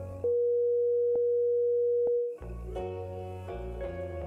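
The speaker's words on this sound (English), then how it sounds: "after a bunch of documentation surfing, I had this very nice sine wave playing." A Chip-8 emulator plays a steady, pure sine-wave beep for about two seconds, loud and clean, before it breaks off into a run of stepped electronic tones.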